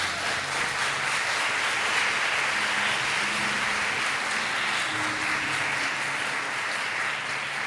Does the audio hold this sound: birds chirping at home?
no